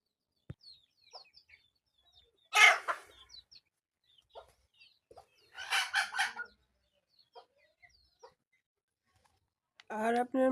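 Desi chickens call in several separate loud bursts, including crowing, with quieter clucks between them and a final burst at the end.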